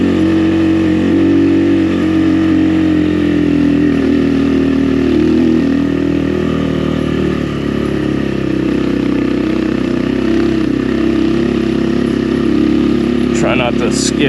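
An XPro Templar 250 X dirt bike climbs a highway hill in low gear, its engine a loud, steady, close drone that holds a strained pitch throughout.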